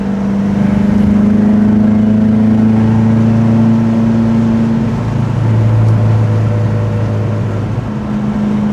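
A Porsche 914 with its 2.0-liter engine drives along steadily, its loud continuous engine drone holding a low pitch before shifting lower partway through, with no voices present.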